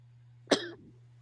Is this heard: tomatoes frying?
no